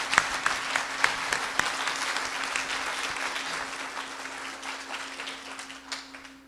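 A conference audience applauds the organising team at an e-learning event, steady dense clapping with a few sharp individual claps standing out early, gradually thinning toward the end.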